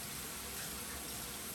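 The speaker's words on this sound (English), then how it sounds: "I like to run it under cold water just to shock them a little bit" Cold tap water runs steadily over drained broccoli in a kitchen sink, a continuous close splashing hiss with no voices over it.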